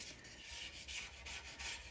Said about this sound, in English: So I'm gonna put some lacquer thinner over here while I'm scraping this side off.